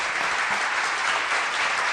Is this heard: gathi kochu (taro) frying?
no